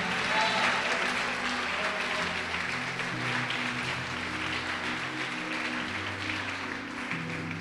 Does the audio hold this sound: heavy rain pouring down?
no